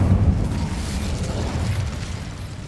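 Incendio fire spell cast in Hogwarts Legacy, a loud whooshing burst of roaring flame that sustains as a steady, rumbling crackle with no voices over it.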